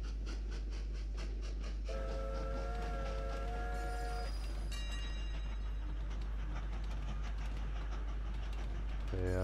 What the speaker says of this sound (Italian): intanto arriva il treno